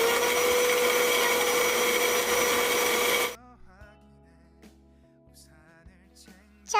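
A kitchen blender grinds dates, milk, honey and oats into a smoothie, a loud steady whirring roar for about three seconds that cuts off abruptly, followed by quiet clinks and handling.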